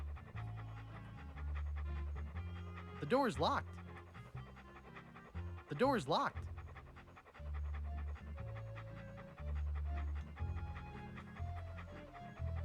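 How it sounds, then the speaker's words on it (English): A dog in Monkey Island 2: LeChuck's Revenge pants in a rapid rhythmic loop over background game music, while a voice speaks twice, each time over a short sweeping sound effect. "What a ferocious looking dog."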